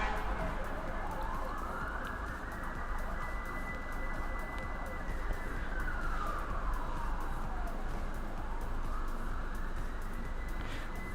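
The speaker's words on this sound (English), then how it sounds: "Can you guys hear the sirens now?" Emergency vehicle sirens wail in the distance, slowly rising and falling over a steady rumble of traffic or wind and faint voices.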